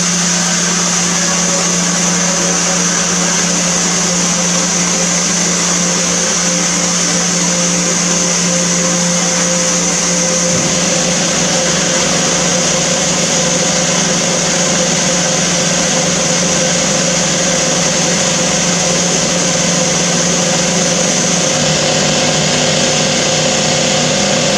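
An aqua blast cabinet runs a wet blast as a loud, steady, continuous roar and hiss that holds close and unbroken for the whole stretch, its tone shifting slightly partway through.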